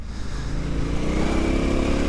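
A motorcycle engine drones steadily at moderate revs on a dirt trail by a lake, close by and continuous, with a rough rumbling texture as it rides along.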